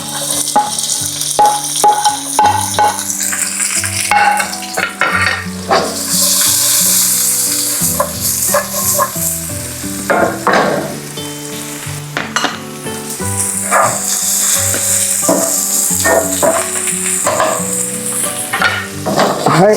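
Onions fry loudly in a pan for a Filipino breakfast, a continuous close sizzle with frequent spatula scrapes and rattles of the pan, sustained throughout with no talking.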